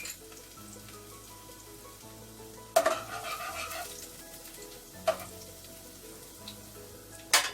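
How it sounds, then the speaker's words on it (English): Garlic fries in a pan on a Jamaican breakfast stove, giving a soft steady sizzle broken by a few sharp clinks of a utensil against the pan, close and fairly quiet. "I'm just burning my garlic for about 1 minute."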